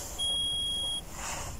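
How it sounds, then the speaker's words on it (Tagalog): Room heater giving a single sustained electronic beep, clear and alone against a quiet indoor background for just under a second. "yung tunog ng heater yan."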